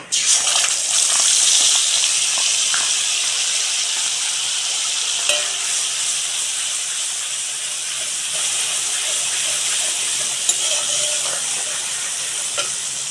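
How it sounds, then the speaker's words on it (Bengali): Yogurt spice paste sizzles and hisses steadily in hot oil in a pan, a loud continuous frying crackle with occasional small pops and stirring scrapes. "টক দই দিয়ে যে মশলাগুলো পেস্ট বানিয়ে নিয়েছিলাম তো ওটা তেলের মধ্যে দিয়ে দেবো"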